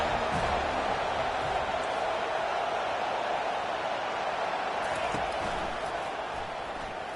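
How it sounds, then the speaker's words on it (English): A large stadium crowd at a USC vs. Florida State football game roars steadily from a distance, a continuous wash of cheering and noise that holds at a constant level throughout. "This crowd bringing the energy and noise early."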